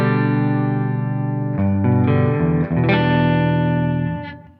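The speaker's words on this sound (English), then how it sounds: "we have like a dark with like a lot of bottom mid range." An electric guitar through a free Amplitube 5 amp model plays a dark, distorted tone heavy in the lower mids, with sustained chords and a few changes before the final chord fades out.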